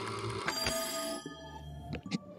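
Telephone ringing in the puzzle video game There Is No Game, a clear electronic bell trilling steadily, then stopping, with a couple of brief knocks after.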